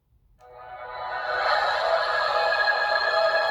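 Rebel Sabers lightsaber soundboard swells up from silence into a bright, steady hum that keeps ringing at a moderate level, with no voices.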